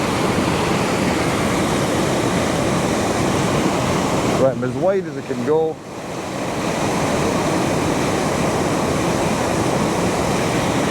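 Steady, loud rushing water from a waterfall at Glen Etive fills the whole scene, a constant roar that briefly dips as a person says a few words close by.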